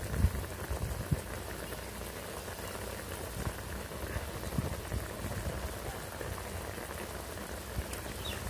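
Mango chutney with turmeric simmers in a pan, bubbling and popping steadily like light rain, with occasional louder pops and no talk.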